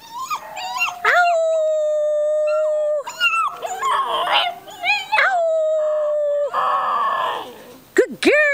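A female agouti-colored puppy whimpers and howls in long, wavering tonal cries, loud and close, with pauses between bursts and a few sharp yips near the end.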